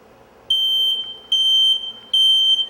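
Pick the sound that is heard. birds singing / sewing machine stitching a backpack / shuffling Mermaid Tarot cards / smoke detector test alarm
smoke detector test alarm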